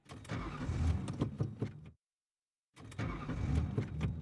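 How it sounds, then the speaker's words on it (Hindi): A car engine cranks repeatedly without catching, a choppy churning burst lasting about two seconds, then a short silence, then another equally long cranking attempt that still fails to fire. "ये गाड़ी क्यों नहीं स्टार्ट हो रही है?"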